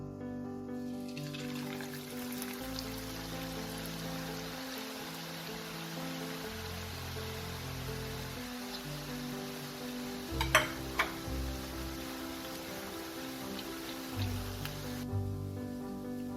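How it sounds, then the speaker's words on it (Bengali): Noodles deep-frying in hot white oil for an Indo-Chinese chicken manchow soup, a steady close bubbling sizzle with a few louder crackles and stirring clatters, no voices. "তেলটা আমার গরম হয়ে গেছে, এটাতে আমি নুডলসটাকে ফ্রাই করে নেব।"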